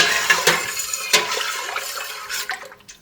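Spoon mixing bronze muscadine grapes in a container for wine, a series of sharp wet clinks and knocks at an irregular rhythm over a soft liquid slosh, close by and fading toward the end.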